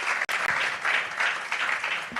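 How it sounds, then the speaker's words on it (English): Applause from a conference audience after a law and business session, a dense steady wash of clapping that carries on for the whole stretch, with a brief dropout near the start. "A round of applause."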